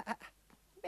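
Sheep on a farm bleat in short, faint calls, two quick bleats followed by a louder one after a pause, with no talk.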